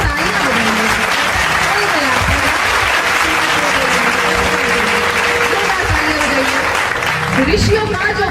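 A crowd at a Ram Navami devotional gathering claps in sustained applause, loud and continuous, while a voice keeps speaking or chanting over it throughout.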